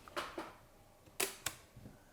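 The shutter of a Godox Lux Senior camera is cocked by hand, giving a few quiet, dry mechanical clicks and ratchets in a short irregular series, close up in a quiet room.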